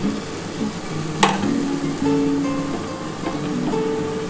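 Peanuts added to a dry, oil-free pan for a beetroot mash sizzle and fry steadily, with a brief sharp clatter as they drop in and a soft, continuous crackle close by.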